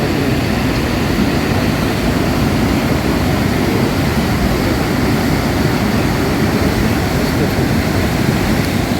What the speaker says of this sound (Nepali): फेरि बढ्यो खोला यहाँ